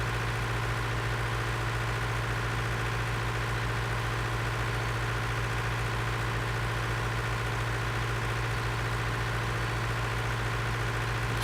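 A video-game tractor engine idles steadily and loudly with a constant low rumble and drone that never changes for the whole stretch.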